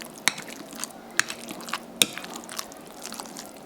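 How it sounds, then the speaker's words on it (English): Cooked potatoes being smashed in a bowl for shepherd's pie soup, with a few sharp, soft crushing impacts at uneven intervals and small wet squishes between them, close and fairly quiet with no talk. "When I first started smashing these potatoes."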